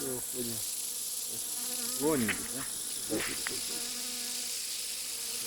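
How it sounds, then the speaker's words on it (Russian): Mosquitoes in a swarm by the Pechora river at night give a thin, steady high whine throughout, while someone talks briefly nearby and low scattered sounds surface now and then. "смотри, комары, а там-то их сколько?"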